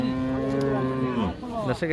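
A Friesian cow and calf at a cattle market: loud, close mooing in one long drawn-out low call, followed by a shorter second moo.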